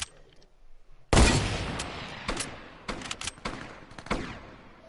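Video game gunfire comes close and loud: a heavy opening blast, then a rapid series of sharp shots and short bursts at an irregular rhythm.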